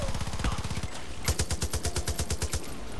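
Gunfire in the video game Far Cry 5: rapid automatic bursts, a short volley at the start and a longer, louder rattling burst after a brief pause, sharp and close.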